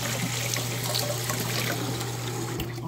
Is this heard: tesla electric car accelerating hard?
no